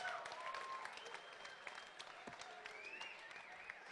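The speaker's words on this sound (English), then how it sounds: "big round of applause to both fighters for a fantastic contest." Applause from a fight-event crowd, a steady patter of many hands clapping at moderate volume, with a few faint cheers and whistles mixed in.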